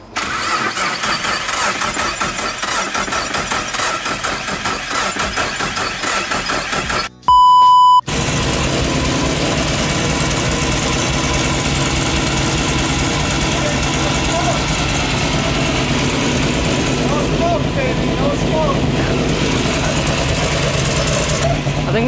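A car engine cranks with a beep, then catches and settles into a steady, loud idle that runs close by for most of the clip, with faint voices in the background.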